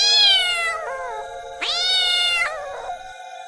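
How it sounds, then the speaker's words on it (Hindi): A cat meows twice in clear, drawn-out, close calls, each followed by a shorter trailing mew, with nothing else around it. "दूसरे कमरे में जब जाता है तो वहाँ भी उसे एक बिल्ला खड़ा मिलता है।"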